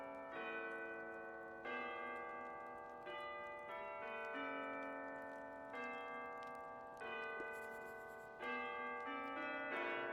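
Distant church bells ring for New Year in the cozy video game The Tiny Bookshop, soft repeated tolls striking about every one and a half seconds, each ringing out and fading, gentle and quiet with no talk over them.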